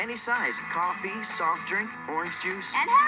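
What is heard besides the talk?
No everyday noise stands out behind the speech.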